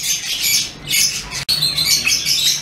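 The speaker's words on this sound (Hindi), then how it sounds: "रुबीनो रुजीला मेल" Close, loud harsh squawks and screeches from a male Rubino rosella parrot at a fancy bird market, coming in two bursts split by a brief pause, with no talking.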